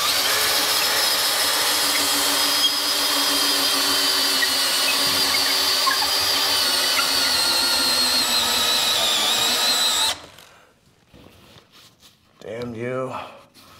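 An old auger bit on a power drill bores through a window frame, a loud, steady whining grind for about ten seconds that then cuts out, followed by brief talking.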